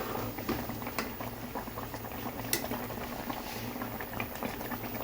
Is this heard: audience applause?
no